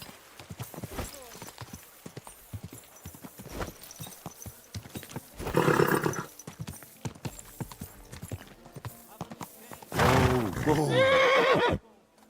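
Horse hooves clip-clop in steady rhythm through much of the scene in Kingdom Come Deliverance II, with two loud close neighs or whinnies breaking out midway and near the end, and a voice speaking softly between them.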